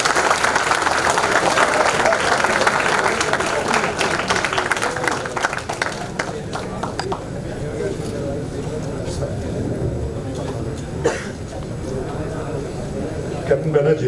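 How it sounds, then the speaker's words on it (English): An event audience at the TMI Transtech 2020 gathering applauds to welcome the chief guest on stage, dense clapping at first that thins and fades after several seconds into scattered claps and room murmur, with voices faintly present. "please welcome on stage with a round of applause the chief guest of the day"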